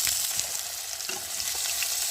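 Chopped carrots and potatoes hit hot oil in a pan while cooking veg dal, giving a steady, close sizzle and frying hiss with faint stirring clicks throughout, no voices.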